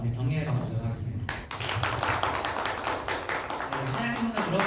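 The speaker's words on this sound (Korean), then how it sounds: "찬양팀에서 우리 격려의 박수 하겠습니다" Encouraging clapping for a worship team during a high-school Sunday service at a Korean church, loud rhythmic claps with a voice talking over the start.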